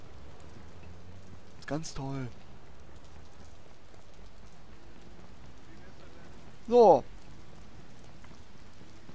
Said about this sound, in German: Bei verkacktem Scheißregen laufe ich hier im Regen rum.